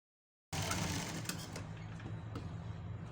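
A sewing machine runs steadily, stitching a kaja patti (buttonhole placket) strip onto fabric; a continuous close, even mechanical whir starts after a brief silence, with no talking.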